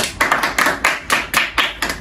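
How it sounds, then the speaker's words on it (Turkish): A small group claps for a few seconds at the end of a Turkish TikTok-style breath challenge game, a steady burst of hand claps with several rhythmic peaks, close and fairly loud, with no talking over it. "Bir alkış."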